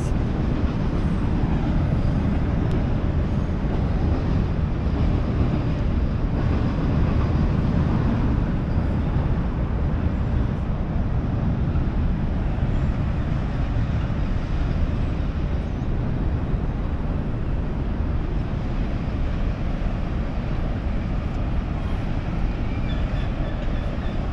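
A long train rolls past near Port Hope, a steady, dense rumble that holds at an even, fairly loud level throughout without a clear approach or fade.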